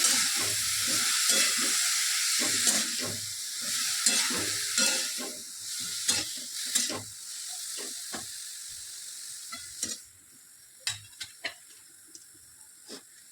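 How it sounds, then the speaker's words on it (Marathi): Cauliflower goes into a hot pan with turmeric and is mixed, producing busy sizzling and scraping strokes that gradually quieten into a soft hiss with a few sharp clicks near the end, and no voices. "लगेच फ्लॉवर टाकायचं. मिक्स करायचं."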